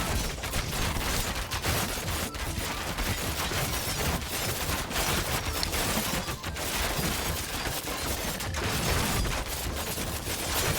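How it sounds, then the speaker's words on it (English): Small area-of-effect bombs explode in Thronefall, a dense continuous crackle of overlapping pops and bursts at low volume, with no pauses between them. "drop some of our AoE little bombs"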